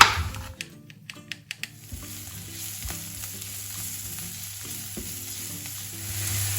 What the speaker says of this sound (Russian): Теперь добавляю сюда чеснок. Слегка его обжариваем.